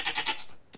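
A short goat bleat, a few wavering pulses close by, followed by a brief quiet gap and a small click.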